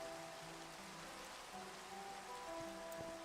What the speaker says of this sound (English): Oh, it's raining. That's kind of nice, actually. Very peaceful.